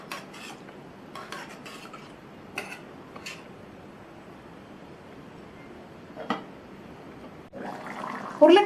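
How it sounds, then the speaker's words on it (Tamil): Scattered scraping clinks of a spoon stirring potato and chickpea curry in a metal pot, a few separate strokes, then a clattering thud as the lid is set down. "நல்லா மிக்ஸ் பண்ணி விட்டுட்டு மூடி வச்சிடலாம்."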